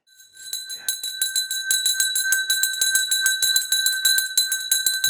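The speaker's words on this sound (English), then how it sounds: "That's the dinner bell." A dinner bell ringing rapidly and continuously, its bright metallic strokes repeating in a fast even rhythm after a brief start, loud and alone.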